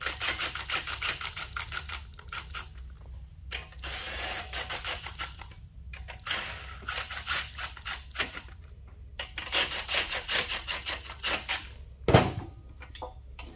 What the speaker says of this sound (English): Use a 1/4 inch ratchet.